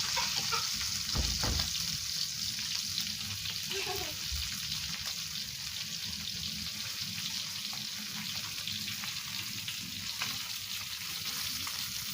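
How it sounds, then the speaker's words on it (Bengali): Koi fish frying in a pan with a steady, close sizzle that fills the whole stretch, a couple of brief thumps near the start and faint background sounds behind it. "আমাকে মাছ ভাজা প্রায় হয়ে গেছে"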